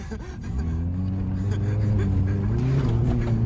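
A lifted Toyota Echo drifts sideways, its engine droning loud and steady as the pitch climbs gradually, heard from inside the car.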